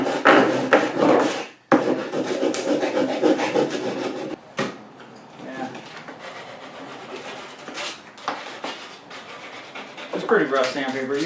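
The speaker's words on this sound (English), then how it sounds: "It's pretty rough sandpaper." Rough sandpaper rasps back and forth against the end of a wooden fish measuring board, in loud, steady scraping strokes broken by brief pauses, with a voice speaking softly at times.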